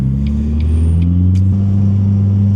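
A car engine drones loudly and climbs in pitch as it accelerates, with a steady rumble and a faint high tire squeal at moments as the tires lose grip.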